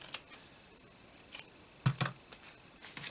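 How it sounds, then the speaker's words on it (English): Scissors snipping around a shabby vintage paper tag: a few sharp, close blade clicks and snips spaced across a quiet moment, with no talking. "So I'll cut it a little bit bigger,"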